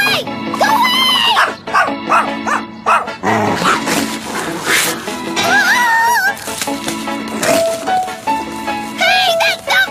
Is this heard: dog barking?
yes